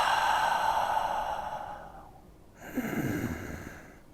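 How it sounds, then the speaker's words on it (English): A person draws a slow breath in through the nose, pauses, then releases a long, audible exhale, close and quiet with no talking. "Breathe in through their nose, pause, breathe out longer than they just breathed in, pause, and then breathe in again."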